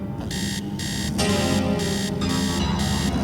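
An alarm clock rings loudly in repeated bursts of high electronic beeping, intensifying partway through and continuing steadily.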